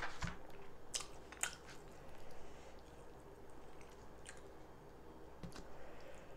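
Close, wet chewing of beef with fufu and egusi stew, soft squishy bites and a few sharp crunchy clicks repeating steadily throughout a quiet room.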